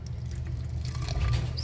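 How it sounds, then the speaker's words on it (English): Water pours into a container, a soft, close trickle that runs continuously for a moment with faint gurgles, heard on its own. "I'm going to see if I can't fill this up with a little bit of the water that I've got down here"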